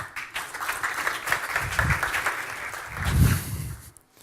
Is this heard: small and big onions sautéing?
no